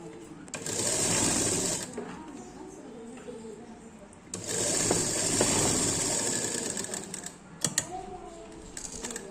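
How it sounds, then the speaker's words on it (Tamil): A sewing machine runs lock stitches on a Patiyala pant, whirring steadily in two long close bursts separated by a pause, with a few short clicks near the end. "இந்த இடத்துல நல்லா lock stitch, double lock stitch போட்டுருங்க."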